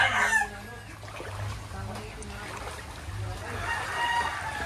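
Chickens clucking and crowing nearby in a coop in Montalban, Rizal, during Typhoon Enteng flooding, with a loud cackle at the start followed by softer murmuring hens and background rumble.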